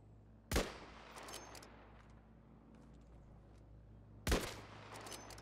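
Two sharp, distant-sounding gunshots in the survival shooter Islands of Nyne, spaced several seconds apart over a quiet humming background with faint clicks in between.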